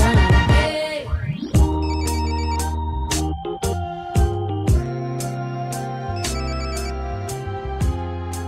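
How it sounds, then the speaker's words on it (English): A phone ringtone plays a bright, repeating electronic melody in regular pulses, fairly loud and close, after a brief burst of other music at the start, with no speech. "Your phone is going off, man."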